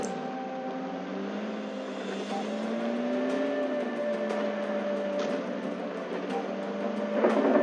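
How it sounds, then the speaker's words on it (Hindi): A car in a video game drives off, its engine a steady mid-pitched whine that rises slightly as it accelerates, with faint clicks and a louder surge near the end. "एंड ये गाड़ी लेके हम निकल पड़े"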